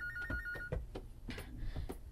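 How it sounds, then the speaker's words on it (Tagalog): A telephone rings in a living room, its repeating electronic trill sounding fairly close, mixed with scattered knocks and clatter from the room. "may bagting ang telepono sa sala"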